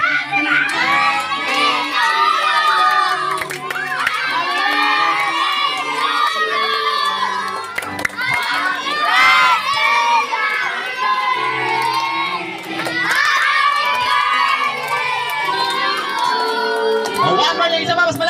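Children shouting and cheering at a child's seventh birthday party, loud and continuous, with crowd voices and whoops packed together throughout.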